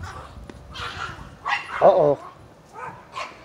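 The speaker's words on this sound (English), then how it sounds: "Dog fight." Several dogs outdoors snarl, yip and bark in bursts of fighting, with one loud, growling peak near the middle and lighter barks before and after, while a person briefly speaks.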